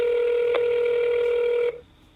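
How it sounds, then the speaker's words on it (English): Telephone call being placed to a call-center number, a steady ringback or dial tone held continuously for under two seconds, then cut off abruptly into low line hiss, with no voices. "let's go ahead and call this actual number that Kevin made for his call center from Mesa Verde"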